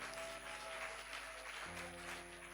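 A church congregation applauding during a worship service, a steady broad wash of clapping held under a sustained organ-like drone, fairly faint and continuous throughout with no voices standing out.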